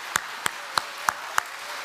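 Clapping for the young adults of a church during a Friday prayer service: five sharp, evenly spaced claps ring out one after another over a quiet room.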